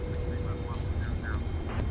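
PMDG Boeing 777-300ER on landing approach in Microsoft Flight Simulator 2024, a steady low jet rumble with faint cockpit tones, under a voice speaking.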